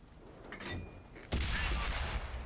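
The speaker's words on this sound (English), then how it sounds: "Oh, artillery." Artillery fire in the tank game World of Tanks, played as a T-54 Motherland: a sudden loud blast strikes about halfway through and leaves a broad, sustained roar, after quieter game noise at the start.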